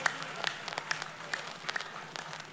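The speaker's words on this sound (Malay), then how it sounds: "Tepukan dan penghargaan untuk mereka." A crowd applauds steadily, with dense overlapping clapping heard from a moderate distance for a couple of seconds.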